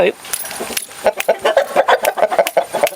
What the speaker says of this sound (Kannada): ಓ ಇದು ಕೋಳಿಗಳ ರಾಜ ಅನ್ಸುತ್ತೆ ಅಲ್ವಾ